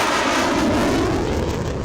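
Cannon fire rolls out at Sri Lanka's Independence Day military parade in Colombo, a loud, broad rumbling boom that fills the brief moment and fades slightly at the end.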